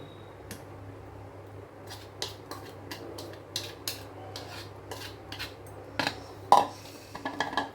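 Mango pulp stirred into malpua batter in a bowl, a spoon scraping and clinking against the sides in irregular strokes, close and fairly quiet.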